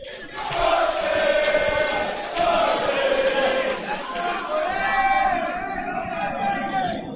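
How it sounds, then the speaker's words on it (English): A boxing arena crowd at the Callum Blockley versus Alexander Zeledon fight roars loudly and continuously, with chanting, drawn-out tones swelling and falling in waves throughout. "Just listen to that crowd."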